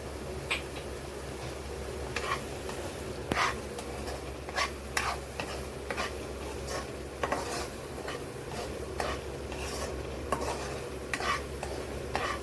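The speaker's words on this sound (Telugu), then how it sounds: "ఇవన్నీ పచ్చివాసన పోయేంత వరకు కూడా కొంచెం దోరగా వేయించుకుందామండి" Garam masala and Kashmiri chilli powder fry in hot oil under steady close stirring, a continuous sizzle broken by regular sharp scrapes and taps of a spoon against the pan, with no one talking.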